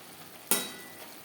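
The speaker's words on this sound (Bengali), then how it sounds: "হাই ফ্লেমে আরও তিন চার মিনিট নাড়াচাড়া করে নিয়েছি" Chopped chichinga (snake gourd) stir-fried in a pan on high flame, heard as one sudden sizzling scrape that quickly fades into a soft, quiet hiss.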